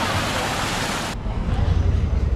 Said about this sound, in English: But it's really cool waterfall.